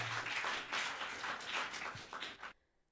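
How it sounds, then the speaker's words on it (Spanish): A church congregation applauds together in a steady wash of clapping that holds for about two and a half seconds and then stops abruptly, leaving near silence. "Aplaudan al maravilloso Jesucristo una vez más."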